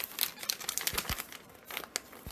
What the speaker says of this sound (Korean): 한번 이것도 뜯어볼게요